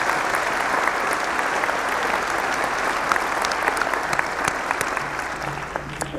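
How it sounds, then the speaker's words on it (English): A university winter commencement crowd gives sustained, dense applause for faculty and staff, loud and even throughout with sharp individual claps standing out, no speech. "Let's give them a round of applause."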